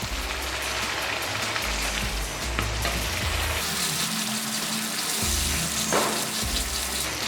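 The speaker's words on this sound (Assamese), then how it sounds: "এখিনি মই তেতিয়ালৈকে ভাজিম যেতিয়ালৈকে তেলটো সেপাৰেট হৈ না যায়" Paneer masala gravy with kasuri methi and a little added water fries in oil in a pan. A close, continuous sizzle crackles like rain on a surface, with occasional stirring scrapes and no talking.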